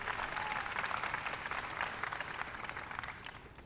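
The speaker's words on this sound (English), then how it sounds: "Give Proudham a big round of applause." An audience at an evening stargazing event breaks into sustained clapping, a dense hiss of many hands heard from a distance that eases slightly toward the end.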